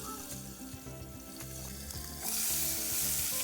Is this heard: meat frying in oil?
yes